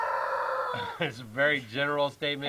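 A rooster crows nearby in a long, loud, multi-part call, heard alongside a person speaking in a conversation about homeschooling.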